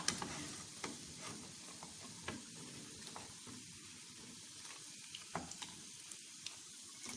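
Balah el sham dough fritters frying in hot oil, a steady soft crackle and bubbling with small scattered pops, close and fairly quiet, with no voices.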